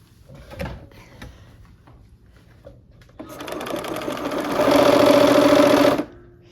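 A sewing machine stitches quilt pieces for a cherry blossom quilt, starting with a few soft clicks and then running steadily for about three seconds, growing louder and faster toward the end before stopping abruptly.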